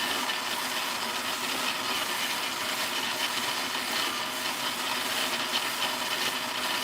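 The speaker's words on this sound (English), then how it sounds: "it's got a drill that's moving an auger" A drill turns an auger inside a moringa seed oil machine, giving a steady, even mechanical hiss and grinding whir that runs without a break and at a constant level.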